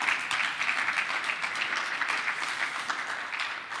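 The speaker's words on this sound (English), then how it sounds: "So maybe a big round of applause for them as well." Conference audience applauding in a large main-stage hall, a dense steady wash of many hands clapping at moderate loudness throughout, with no one talking over it.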